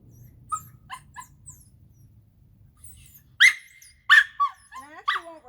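A dog in sit-stay training barks and yips in several sharp bursts, loud and close, in the last half of the stretch, after quieter whines and low rumbling noise at the start.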